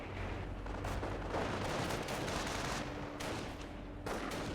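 A booby trap blast and gunfire erupt in Company of Heroes 1, a World War II strategy game match of US versus Panzer Elite. Dense, continuous rumbling explosions and rattling shots overlap throughout with no pause, and nobody talks.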